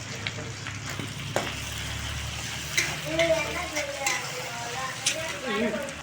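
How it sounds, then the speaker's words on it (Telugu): Onion, ginger and turmeric fry in a hot pan with a steady close sizzle, broken by occasional stirring scrapes and clinks, while a voice talks over it. "అల్లం కూడా కొద్దిగా ఎర్రగా మగ్గనివ్వాలి"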